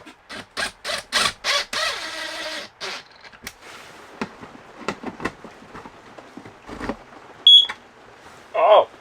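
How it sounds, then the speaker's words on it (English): Smoke detector in a truck camper conversion giving a run of loud, evenly spaced beeps, followed by scattered footsteps and knocks with brief high chirps near the end; nobody speaks. "we have carbon monoxide alarm and a smoke detector"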